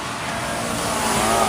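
Highway traffic makes a steady broadband roar of passing cars that swells slightly toward the end, with no voices over it.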